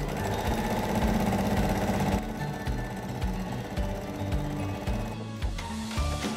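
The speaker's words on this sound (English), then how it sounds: "you're gonna sew out to each end to seal the entire bias tape to the end" A sewing machine stitches bias tape onto a cloth face mask, a continuous close mechanical whirr with a fast rhythmic needle pulse that slows slightly partway through, with no voices.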